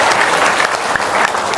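Brief burst of audience applause at an Indonesian religious talk, dense hand clapping from a crowd, steady and fairly loud throughout.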